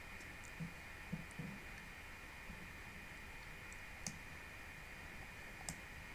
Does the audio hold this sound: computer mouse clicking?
yes